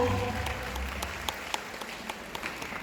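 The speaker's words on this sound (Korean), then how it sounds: "감사의 박수 부탁드립니다." Audience applause at a live storytelling event, a moderate wash of clapping from a crowd, steady and fairly soft, with a few sharper individual claps standing out as it continues.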